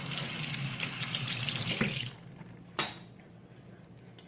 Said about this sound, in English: Let me give my hands a little rinse here.